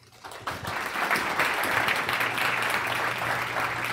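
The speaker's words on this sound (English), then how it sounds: "So please give a big round of applause" An audience at a closing keynote for an Arizona Society of CPAs event breaks into applause, many hands clapping that swell quickly from quiet to a steady, full round and hold there.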